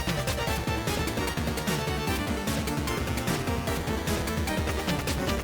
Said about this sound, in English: The mini-boss theme usually sounds like this.